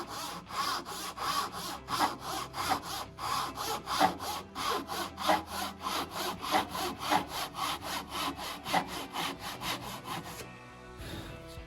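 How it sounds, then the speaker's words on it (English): A handsaw rasps through wood in steady, regular back-and-forth strokes, cutting joint lines for a guitar pedalboard; close and continuous, ending in a short quiet pause. "After following all my lines with the handsaw, I come back in with a coping saw and clear out the material easily and effectively."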